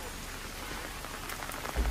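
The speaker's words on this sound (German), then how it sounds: "Ui, es regnet." Steady rain falls outdoors near a duck enclosure, a dense even hiss of drops on surfaces, with a slightly heavier patter at the very end.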